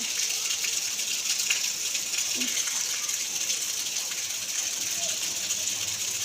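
Constant rainfall gives off a soft, unbroken hiss of falling water, steady throughout with no pauses.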